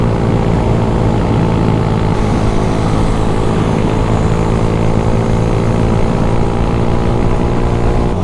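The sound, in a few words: Honda Wave motorcycle engine climbing hill in fourth gear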